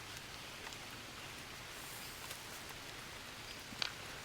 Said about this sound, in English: it sounds like radio static instead of rain on rock